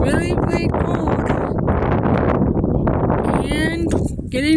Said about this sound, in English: getting really, really windy